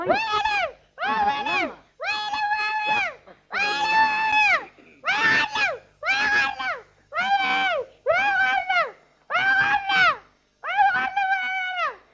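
Sheep bleat in a rapid run of about ten loud, close, wavering calls, each separated by a short gap.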